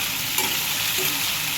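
Vegetables, tomato and chili sizzle loudly as they are stirred into a hot tempering in a pan, with a continuous close frying hiss and no voices.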